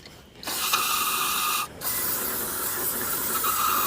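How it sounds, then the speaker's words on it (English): Mass airflow sensor cleaner comes out of an aerosol can in two bursts during an engine oil change: a steady hissing spray, a short pause, then another long hiss, close by. "Just spray it in there like that and let it sit."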